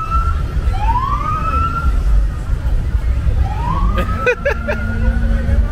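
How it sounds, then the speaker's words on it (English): Police sirens wail on a city street during a Mexican Independence Day celebration, rising sweeps followed by short whooping yelps over loud crowd and street noise. "Hitting sirens."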